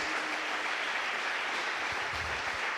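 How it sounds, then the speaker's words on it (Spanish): Church congregation applauding during a Spanish-language sermon, a dense, steady wash of clapping heard from within the crowd, continuous and even throughout with no talk. "¿Cuánto le damos un aplauso, Señor, en el nombre"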